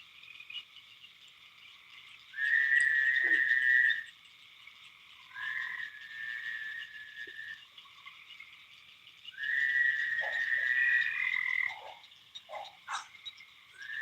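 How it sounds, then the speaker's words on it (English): Several frogs call at night beside a catfish fishing spot. Long, loud trilling croaks lasting a second or two alternate with short chirps over a constant insect hum. "Quiet, frogs."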